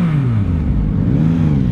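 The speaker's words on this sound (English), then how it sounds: "they've done quite a lot of work on the exhaust and the airbox to give it that nice rasp" A 2021 Yamaha MT-09 SP motorcycle with a reworked exhaust and airbox revs loudly and close by, its engine note rising and falling in a short, continuous rasp.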